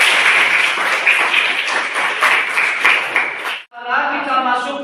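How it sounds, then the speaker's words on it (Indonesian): A class applauds group 2, a dense, bright patter of many hands clapping together for a few seconds, cutting off abruptly before a voice begins speaking. "Tepuk tangan untuk kelompok 2."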